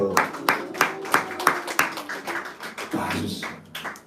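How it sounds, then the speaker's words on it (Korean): A small congregation at a Korean Bible lecture claps in a quick, fairly even rhythm of sharp hand claps that loosens toward the end, close and moderately loud. "박수"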